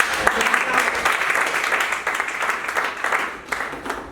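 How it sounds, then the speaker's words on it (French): An audience at a talk on student entrepreneurship applauds with sustained, fairly close clapping that fades slightly toward the end, with voices underneath. "C'est pourquoi Justin il mérite beaucoup d'applaudissements."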